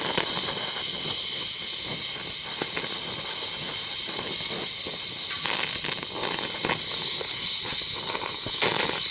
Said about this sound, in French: Alors maintenant, je vais faire couler du brox à ces endroits